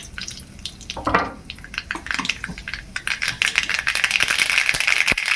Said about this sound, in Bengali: কড়াইতে তেল দিয়ে দিলাম তেলটা গরম হয়ে গেছে আমি দুটো শুকনো লঙ্কা দিলাম আর দিচ্ছি সরিষা ফোড়ন